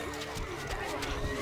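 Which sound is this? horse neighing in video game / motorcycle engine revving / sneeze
horse neighing in video game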